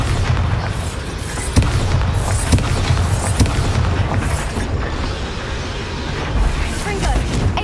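Explosive Bombarda spell blasts in Hogwarts Legacy during a dragon battle: repeated booming bursts over dense, continuous game noise and music, with voices present in the mix.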